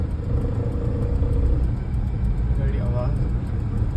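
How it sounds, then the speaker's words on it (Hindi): A learner car driving over a jerky, bumpy road, its engine and road noise rumbling low and steady from inside the cabin with the air conditioning running, while people talk over it. "वो रोड के लिए आवाज़ कर रहा है, रोड जर्किंग था ना, तो इसलिए आवाज़ कर रही थी"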